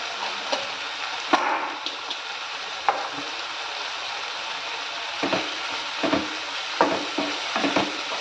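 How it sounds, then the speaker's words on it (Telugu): Turmeric stirred into tomatoes frying in a pan for tomato rice: a low background sizzle broken by sharp spoon scrapes and taps on the pan, some louder, spaced irregularly, close with no talking. "పసుపు వేసి ఈ విధంగా బాగా కలుపుకోవాలి"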